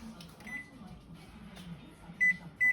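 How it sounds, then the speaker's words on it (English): Electronic beeps from a kitchen oven timer being set while baking a pumpkin crunch cake, two short bright tones near the end over quiet room hum. "Put my timer on."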